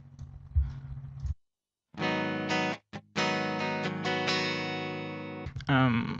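A clean electric guitar runs through a Line 6 POD X3 with a modulation effect, playing sustained, shimmering chords in a few phrases broken by short gaps, with talk at the start and again at the end.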